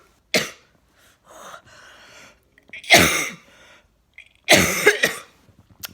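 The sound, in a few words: coughing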